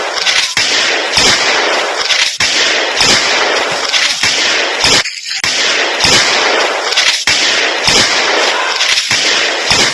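Dense, continuous gunfire during a commando operation, loud, sharp cracks repeating rapidly over a constant roar of shooting, with brief louder blasts punctuating the barrage.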